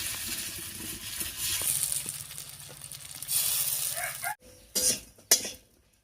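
Bora fritters sizzle in hot oil, a steady frying hiss broken by sharp metallic clinks and scrapes of a utensil against the pan near the end.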